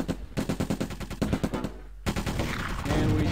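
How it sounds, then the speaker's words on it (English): Rapid machine-gun bursts from the World War II strategy game Close Combat, a fast run of sharp evenly spaced shots, a brief pause, then a denser rattling fusillade that swells louder toward the end. "Okay, so they are shooting at him."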